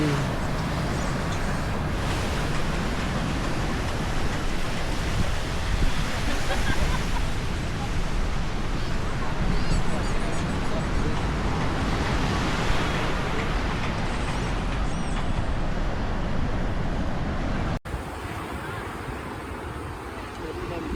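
Sea waves at Marina Beach, a crowded city beach, make a steady broadband surf roar with wind noise that stays loud and continuous throughout, then cuts abruptly to a quieter section near the end.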